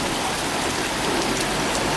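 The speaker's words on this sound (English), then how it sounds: "it's hailing and raining at the same time." A heavy rain and hail storm pours down in Santa Monica, California as a dense, steady wash of loud noise with no pauses and no voices.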